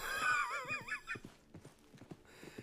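Horse in Red Dead Redemption 2 whinnies loudly with a wavering, shaky neigh, followed by snorts and a run of hoof clip-clops close by, with no talk over it.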